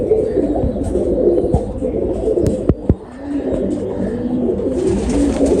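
Pigeon cooing close by, soft low repeated coos over a busy background with a couple of sharp clicks or taps partway through.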